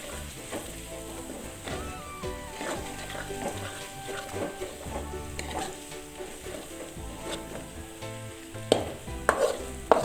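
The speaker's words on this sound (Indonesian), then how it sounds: "masukkan bawang putihnya. Tumis sampai harum." Shallots and garlic sauté for beef rendang, a steady sizzle and crackle from the pan under background music, with stirring scrapes and clinks toward the end.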